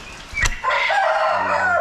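A laying-type Leghorn chicken crows loudly and close in a single drawn-out, strained call that follows a short thump, with no voices.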